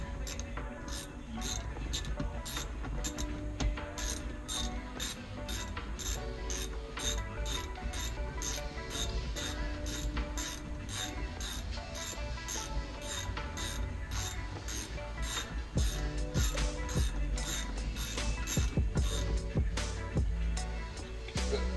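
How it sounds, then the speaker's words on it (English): A wrench ratchets a lock nut down on a motorcycle front fork during a fork seal replacement, giving a fast, steady run of close, loud clicks that carries through the whole stretch without talk. "tighten this to the lock nut all the way down"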